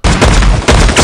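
Loud, close bursts of rapid gunfire from a horror film, rounds sprayed into a bush in two heavy volleys with a short break between them.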